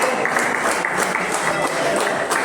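Dense, steady applause from an audience at a farmers' organic training event during a puja ceremony, continuous and loud throughout with a crowd murmur beneath.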